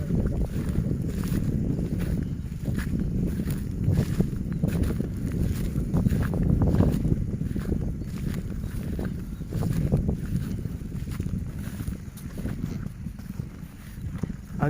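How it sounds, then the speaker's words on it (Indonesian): Strong wind gusting outdoors near farm fields, a loud, continuous rumbling roar buffeting close to the microphone, swelling and easing over the whole stretch. "Anginnya besar banget ya Pak Ujang ya"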